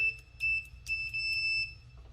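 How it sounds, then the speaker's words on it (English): A multimeter's continuity alarm gives several short high-pitched beeps, then one longer steady tone, loud and close in a quiet room. "and one with an alarm, so that way you can test your connectors."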